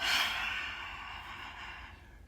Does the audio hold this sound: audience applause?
no